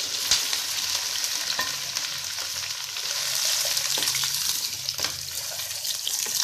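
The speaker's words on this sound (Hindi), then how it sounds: "अब इसमें भिंडी शामिल करेंगे" Okra fries in hot oil over low heat, with a steady close hiss and a few faint clicks, and no voices.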